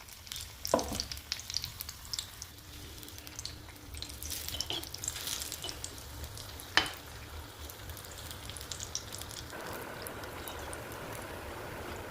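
Eggplant bajji frying in oil over a low gas flame, a steady soft sizzle and crackle with a few sharper pops, continuous and close, with no talking.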